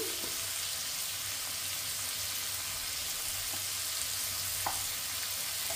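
Potatoes with salt and turmeric sizzle and fry in a pan while being stirred, a steady close crackling hiss with a few faint scrapes and taps of the spoon.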